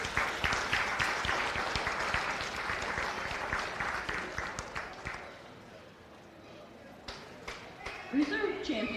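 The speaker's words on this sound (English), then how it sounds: "Let's give him a big round of applause." Crowd applause at a county fair goat show, a dense burst of many hands clapping that fades after about five seconds, followed by scattered claps, crowd noise and a voice near the end.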